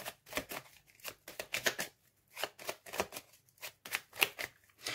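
Playing cards handled and laid down onto a spread, a string of quick papery slaps and shuffling flicks in irregular bursts, close and fairly quiet, with brief pauses between.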